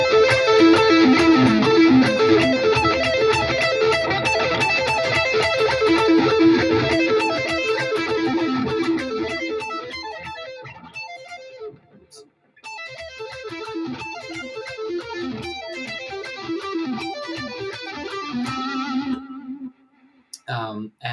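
Electric guitar running an arpeggio lick across all strings, fast rippling notes through effects with some echo and distortion, played twice with a brief gap between, close and fairly loud.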